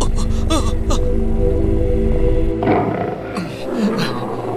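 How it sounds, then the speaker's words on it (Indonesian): A tiger roars in a radio drama: a loud, drawn-out, growling roar with wavering pitch, followed by a rougher, fading snarl. "Ada harimau gembong sebesar itu."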